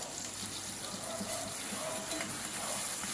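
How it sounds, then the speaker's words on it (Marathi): A ground paste of onion, tomato, garlic and ginger fries in oil, giving a steady close sizzle with soft bubbling and faint stirring throughout. "तेलामध्ये आता हे जे वाटण होतं ते मस्त परतून घ्यायचं आहे"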